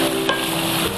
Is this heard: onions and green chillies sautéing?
yes